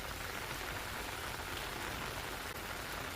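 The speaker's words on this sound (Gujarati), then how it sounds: "ઉપલેટાના તેલંગાણા ગામમાં ભારે વરસાદ જોવા મળી રહ્યો છે" Heavy rain pours down steadily in Telangana village near Upleta, Gujarat, a dense, even hiss of drops striking surfaces that holds constant from start to finish with no voices.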